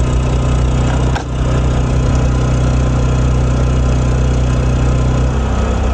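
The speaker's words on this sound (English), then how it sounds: "Here, the generator's got a load to it." A home backup generator running under electrical load during a North Idaho winter, a steady loud engine drone with constant rumble and vibration, close by and unbroken, with one brief dip near the start.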